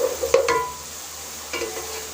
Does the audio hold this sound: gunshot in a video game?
no